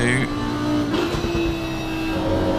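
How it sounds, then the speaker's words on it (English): A GT3 race car in Assetto Corsa Competizione at Suzuka slides through a turn, its engine droning steadily at mid pitch with a faint tire scrub, close and fairly quiet throughout a short stretch. "Can hear him sliding through turn 2"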